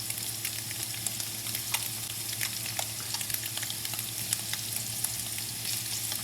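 Mushrooms frying in a pan for lemon pepper tofu, a steady dense sizzle with crackling pops and occasional stirring, loud and close with no voices.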